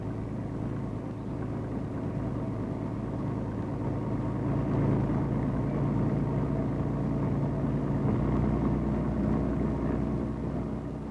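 A Ford Zephyr with automatic transmission, heard from inside, pulls away and drives on with a steady low engine rumble and road noise that rise slightly as it gains speed, with no gear changes.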